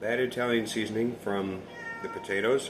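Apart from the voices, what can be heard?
cat meowing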